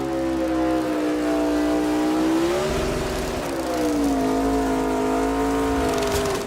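A NASCAR Xfinity race car at Watkins Glen revs hard during a burnout just past the finish line, a loud sustained engine roar whose pitch climbs, dips briefly and climbs again.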